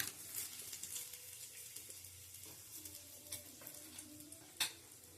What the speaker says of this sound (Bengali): দেখো বন্ধুরা, তেজপাতা দিয়ে দিলাম ফোড়ন।